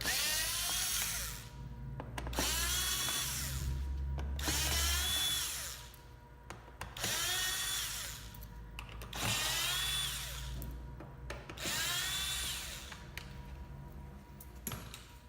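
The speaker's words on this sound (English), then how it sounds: "you're going to remove these 6 screws using a Phillips screwdriver" A Phillips-bit driver backs screws out of a Honda CR-V front door panel in five separate whirring bursts, each a couple of seconds long with short quiet gaps between, close and fairly faint.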